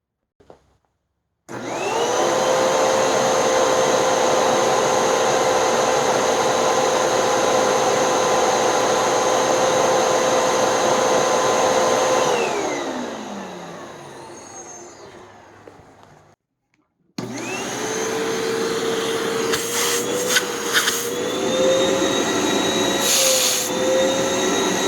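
A Sanitaire EXTEND SC3683D upright vacuum cleaner roars loudly and steadily up close, winds down to near silence, then starts again with a slightly wavering motor whine and a few clicks.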